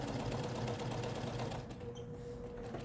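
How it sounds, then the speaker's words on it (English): A sewing machine top stitching the sides of a fabric bag, a close, rapid steady whir of needle strokes running throughout. "we're going to top stitch down both sides"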